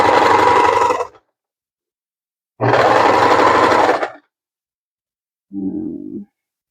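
Sewing machine back stitching a sunflower crossbody bag in three bursts, two long runs of steady motor whir and needle chatter, then a short softer run after a pause, close and loud.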